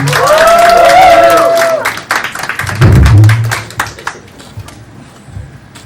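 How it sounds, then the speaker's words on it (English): Applause and some cheering greet Josh Yugen, the Miss Universe national director, at a formal press conference; a loud burst of clapping with a rising tone fades into scattered claps and brief crowd noise. "A big, big round of applause for Josh Yugen"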